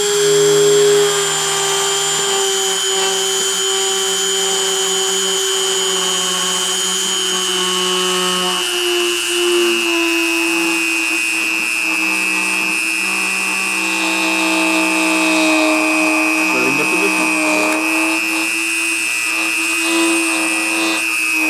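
A machine spindle runs at 30,000 RPM during deposition, giving a loud, steady high-pitched whine with layered tonal hum that holds throughout.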